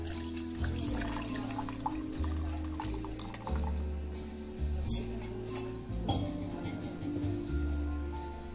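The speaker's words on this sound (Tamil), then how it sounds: "எல்லாத்தையும் கழுவி விட்டுக்கலாம்." Running tap water splashes over ingredients being washed in a kitchen sink, a close, uneven gurgling flow broken by handling noises and brief pauses, with a low hum beneath.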